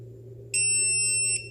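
A single sharp electronic beep from a quadcopter buzzer sounds for under a second, loud and high-pitched, over a low steady hum.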